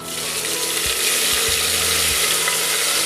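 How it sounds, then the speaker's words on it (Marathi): Cumin seeds sizzling in hot oil for jeera rice, a steady broadband frying hiss with a few low thumps from the pan, fairly loud and continuous with no talking. "आता आपलं जिरं चांगलं तेलामध्ये परतल्यावर चांगला छान सुवास आला जिऱ्याचा"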